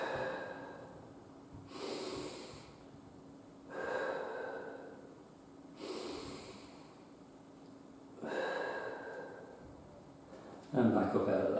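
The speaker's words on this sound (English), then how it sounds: "maybe 3 to 5 deep breaths, breathing in through your nose, filling your belly," Slow, deep breaths during a Pilates routine for low back pain, drawn in through the nose and let out through the mouth, four or five long airy swells repeating at an even, unhurried pace, close and fairly soft.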